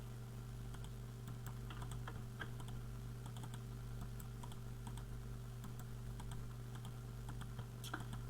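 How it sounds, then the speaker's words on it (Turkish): Rapid computer keyboard typing, irregular clusters of light key clicks over a constant low electrical hum, close up and quiet, with no one speaking. "bu arada klavye ve mouse'un sesi geliyorsa"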